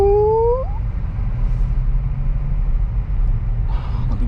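A 2023 Acura Integra pulls away under acceleration with a steady, close low engine rumble that holds throughout, plus a brief rising tone early and a faint rustle near the end.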